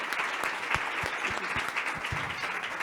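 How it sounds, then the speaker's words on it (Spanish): A television studio audience applauds a photojournalist who travelled to Ukraine, with steady, fairly close clapping throughout and sharp individual claps standing out from the mass. "también aquí hay un aplauso para el fotoperiodista que ha viajado con Baba Hameida"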